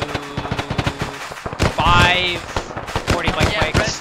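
Heavy automatic gunfire in an Arma military mission, with dense rapid bursts of shots throughout and a radio-style voice speaking over the middle of the clip.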